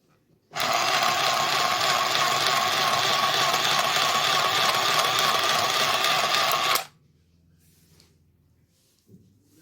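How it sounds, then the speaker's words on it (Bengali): A mini sewing machine stitches a piece of fabric in one loud, continuous mechanical whir for about six seconds, then stops abruptly, leaving quiet room noise and a small knock. "আপনাদের সুবিধার জন্য আমি আরও একটা টুকরো সেলাই করে দেখাচ্ছি"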